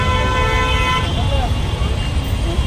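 Car horns toot through heavy road traffic at a jam during a Hanuman Jayanti festival in Owale, Thane, with a steady roar of engines and a long sustained horn blast layered with shorter honks, close and loud.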